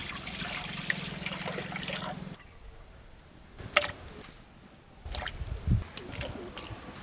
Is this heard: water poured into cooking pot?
yes